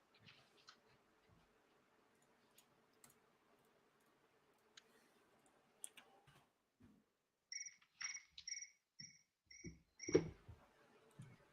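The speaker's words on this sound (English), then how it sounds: "These crickets." Quiet field crickets chirp faintly against a low background, followed by a few sharp ticking and clicking sounds and brief tonal beeps, with no voices.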